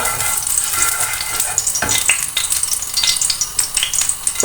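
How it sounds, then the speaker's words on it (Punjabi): Oil heats and sizzles loudly and close in a frying pan for a tadka for dhaba-style aloo gobi matar. Continuous crackling fries under occasional scraping stirs. "ਤੇਲ ਪਾ ਲਿਆ ਗਰਮ ਹੋ ਗਿਆ ਫਰਾਈ ਪੈਨ ਚੰਗੀ ਤਰ੍ਹਾਂ ਗਰਮ ਕਰਾਂਗੇ ਇਹਨੂੰ"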